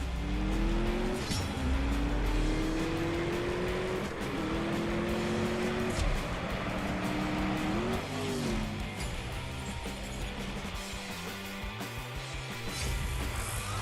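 A mobile racing game drag race against a Lamborghini Urus, with loud continuous engine revving that climbs in pitch through several gear shifts, then a rumbling finish.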